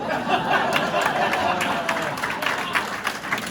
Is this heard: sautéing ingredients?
no